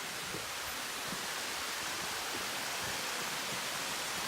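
A mountain waterfall on a trail in Jirisan, South Korea, producing a dense continuous hiss of falling water, steady and fairly close, with no talking.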